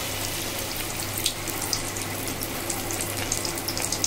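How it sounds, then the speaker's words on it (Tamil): Batter-dipped stuffed mushroom balls fry in hot oil, giving a steady soft hiss scattered with small crackles and pops throughout. "பேட்டரில் டிப் பண்ணி ஆயிலில் ஃப்ரை பண்ணி எடுத்துக்கணும்"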